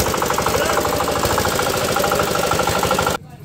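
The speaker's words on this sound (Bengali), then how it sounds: "মোহাম্মদ আব্দুল্লাহ হুজুর, আব্দুল্লাহ হুজুর ইঞ্জিন স্টার্ট দিবে।" An old JD 180 diesel engine runs in a rapid, steady knocking rhythm, loud and close, before cutting off abruptly near the end.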